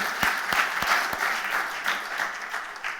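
An audience in a church claps steadily, a dense patter of many hands with a few sharp nearby claps standing out at the start.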